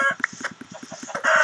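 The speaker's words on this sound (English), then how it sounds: "Found chickens. I got chickens." Chickens in the Minecraft video game cluck in a quick repeated series of short clucks, close and loud, with a brief squawk near the end and no speech.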